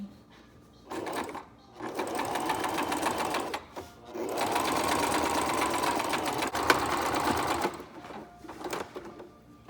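A sewing machine runs a zigzag seam on a homemade fabric mask in two long bursts of loud, steady mechanical whirring, separated by brief pauses and ending with a short final run.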